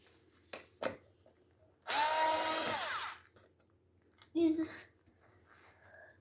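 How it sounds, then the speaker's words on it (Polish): A Bosch PushDrive cordless screwdriver backs screws out up close, whirring in two bursts: a longer run of about a second, then a shorter one. Brief voice sounds and light handling noises fall in the pauses. "Teraz wykręcam wkręty"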